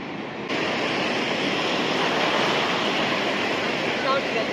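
Sea waves wash onto a flat beach in the Andaman Islands, a steady, close rush of surf with wind noise, starting abruptly after a brief quiet moment.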